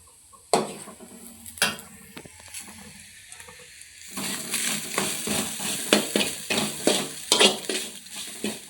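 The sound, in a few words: frying coconut and cumin in a pan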